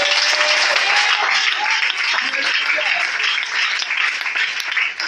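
A church congregation applauds and cheers together, a loud, dense wash of clapping and voices sustained steadily throughout.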